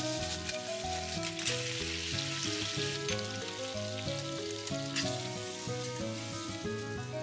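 Steady, continuous sizzling of food frying in a hot frying pan while a bento is prepared, heard up close under soft background music, with no talking.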